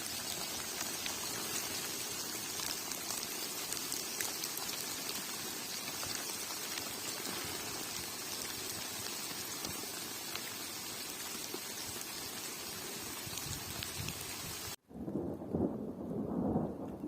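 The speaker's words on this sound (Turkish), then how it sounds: "Biraz da yağmur Dolu sesi dinleyin arkadaşlar." Steady hail and rain pour down over a residential neighbourhood with thunder rumbling, a dense continuous hiss and patter that cuts off abruptly near the end, followed by a brief duller patch.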